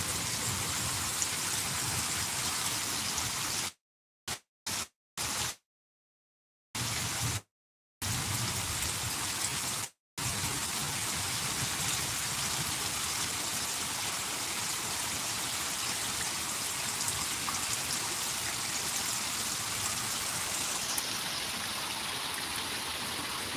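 Heavy rain pours steadily and loudly, a dense continuous hiss of drops on surfaces, broken by a few abrupt silent gaps early on.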